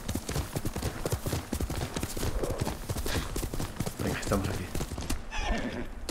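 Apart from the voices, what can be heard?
horse trotting and neighing in video game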